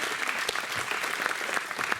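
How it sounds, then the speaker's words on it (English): An audience at a political event in Grass Valley, Nevada County, applauding steadily, a short continuous burst of moderately distant clapping. "I have to just give them a round of applause"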